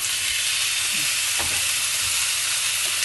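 Tomatoes hit a pan of frying onion and ginger for butter chicken, giving a steady, close, broadband sizzle and hiss that stays loud and even throughout with no talking.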